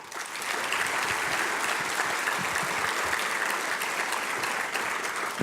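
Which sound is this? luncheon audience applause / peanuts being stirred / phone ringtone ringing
luncheon audience applause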